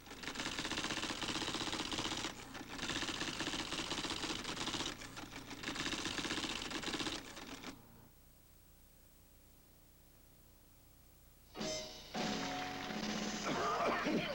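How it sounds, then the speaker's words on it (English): A Xerox automatic typewriter types rapidly in bursts of dense mechanical clatter, pausing into near silence before a new burst of typing starts near the end. "automatic typewriters in action."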